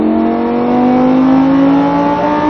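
Lamborghini Huracan engine accelerating on a race track at Mérignac, a loud, steady close-up roar with rising pitch as the car builds speed, heard continuously without speech.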